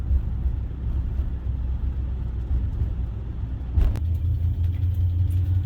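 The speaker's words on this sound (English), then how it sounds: "There's some pretty big divots in the road that I'm going over right now, and yeah, this thing just soaks them up." Interior ride in a 1975 Lincoln Continental Town Car crossing big road divots: steady low road rumble with a soft thump as the car absorbs a bump, no talking.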